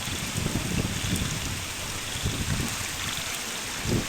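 Heavy rain pouring down in a forest, a dense, constant hiss of drops with scattered heavier splatters, loud and unbroken throughout.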